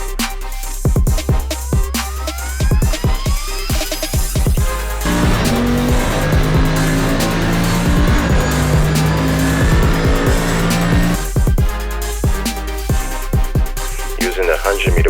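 Race car lapping the Bathurst circuit, engine roaring loud and close through gear changes, braking with squealing tires, then accelerating hard again, continuous and intense throughout.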